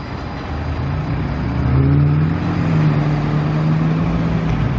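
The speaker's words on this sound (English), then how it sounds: "Tram is departing for Helensvale from Broadbeach North." A tram pulls away from Broadbeach North station on the Gold Coast, bound for Helensvale. A steady electric motor whine rises in pitch over rolling rumble and continuous road-like noise, close and fairly loud.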